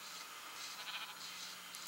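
Sheep bleating repeatedly at a moderate distance, several overlapping calls across a steady outdoor background with no talking.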